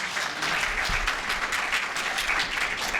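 Applause from the audience at a mushaira poetry gathering in Riyadh, a sustained, even clatter of many hands clapping at moderate distance, with no speech over it.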